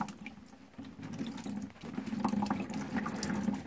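Water draining from the inlet filter strainer of a Navien tankless water heater during flushing, a faint trickling and splashing flow that rises and falls.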